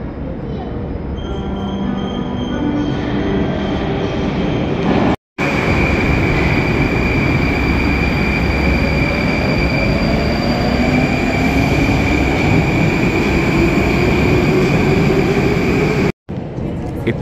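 A Moscow metro train runs through a subway station with a loud, sustained rumble of wheels and a steady whine that rises as it moves, continuing almost without pause.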